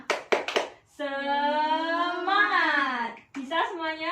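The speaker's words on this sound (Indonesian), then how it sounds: "tadi sudah diajari belum sama Bu Gita tepuk semangat?" Elementary school children in a classroom perform the tepuk semangat clapping chant: a few sharp, quick hand claps, then a long, loud, sustained shout sung together by many young voices, followed by another chanted burst.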